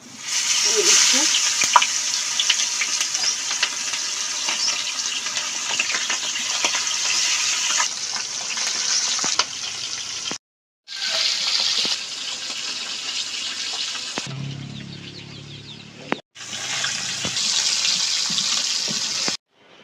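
Fish with roe frying in hot oil in a village kitchen, a loud continuous sizzle and crackle broken by a couple of short silent gaps, with a low bubbling surge near the end.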